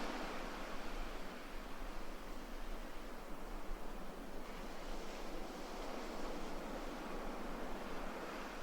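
Ocean waves breaking on a Bali beach at dawn, a steady, continuous wash of surf with no distinct individual crashes, fairly soft and even throughout with no voices.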